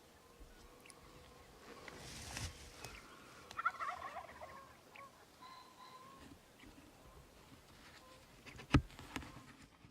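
Wild turkeys gobble before dawn in Montana, faint and distant, several short gobbles scattered through quiet background hiss with light insect-like ticking.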